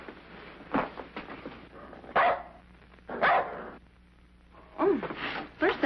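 A dog barking as a sound effect in a 1951 Western radio drama: several separate barks and yips at moderate distance, with quiet gaps between them.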